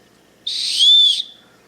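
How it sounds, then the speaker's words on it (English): The safety whistle built into a Leatherman Signal multi-tool gives one short, shrill, piercing blast lasting under a second, close and clear against near silence. "Now this is the safety whistle. If I pull that out and I push this, we've got a safety whistle."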